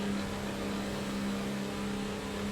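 On-board Formula 1 car engine in the video game F1 2019, a sustained, steady high-revving drone with a strong tonal whine, heard close and alone, with the car suspected of an engine failure.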